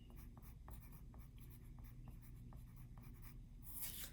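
A pencil writes labels on paper for a perspective drawing, faint close scratching strokes in a quick repeated rhythm over a low room hum, with no talking.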